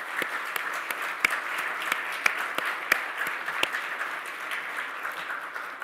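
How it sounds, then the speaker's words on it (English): An audience at the opening of a summit gives a round of applause, soft, steady clapping spread through a large room, with a few sharper individual claps standing out near the start. "If you would please join me in giving them a heartfelt round of applause."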